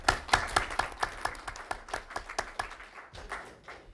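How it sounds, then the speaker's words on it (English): A small audience at a Silicon Valley venture capital panel event gives a quick round of applause for club officials, with distinct, fairly sparse hand claps close by over a few seconds. "So quick round of applause for those folks."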